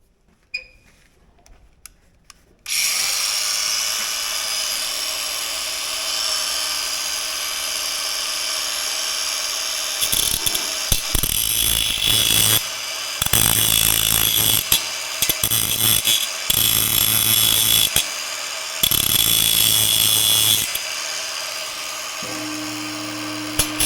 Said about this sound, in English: Not sure how easy it is to get the angle grinder on the blades